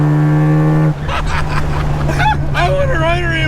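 Mazda RX3 with a 13B rotary engine and freshly swapped gearbox, its engine droning steadily up close during a test drive, with a person talking over it.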